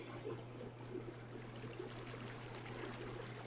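Flowing water ambience in the video game Farming Simulator 22, a steady faint stream-like wash with a low hum beneath, continuous and even throughout.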